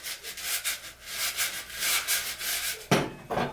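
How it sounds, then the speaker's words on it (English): Close, steady scrubbing of a dried gourd's outer skin and fungus, rhythmic back-and-forth broadband rubbing strokes, with a sharper, louder scrape near the end. "as you scrub this, it gets rid of all that fungus and dead skin"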